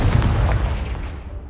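A Confringo blasting spell explodes in the Hogwarts Legacy video game, a loud booming burst with a rumbling low-end tail that fades over about a second and a half.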